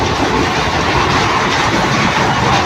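An express train rolls along at speed, its loud, close, steady rumble and rattle of carriages heard from inside, continuous for a few seconds without talk.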